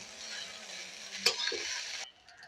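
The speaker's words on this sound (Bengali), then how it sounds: "আলতো হাতে চাউমিনগুলো ভাজতে হবে।" Egg chow mein noodles stir-fried in a pan give a steady bright sizzle with a sharp clatter of tossing near the middle, cutting off abruptly toward the end to a faint residual hiss.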